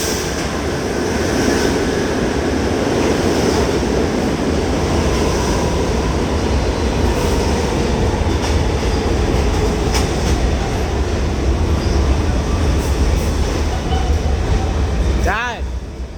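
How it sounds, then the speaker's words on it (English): A New York subway D train pulls into West 4 Street station, a loud sustained rumble and clatter of wheels lasting throughout, with a brief squeal near the end and voices under the noise. "train's here. Oh, it's a D train."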